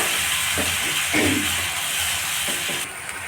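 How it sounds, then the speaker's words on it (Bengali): Green chilli, tomato and ginger paste frying in a pan, giving off a steady, close hiss broken by a few soft knocks from stirring. "আমি দিয়ে দিচ্ছি কাঁচা লঙ্কা টমেটো আর আদা বাটা একটু এটা ভালো করে কষিয়ে নেব"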